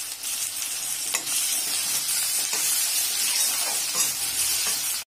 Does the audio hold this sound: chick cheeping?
no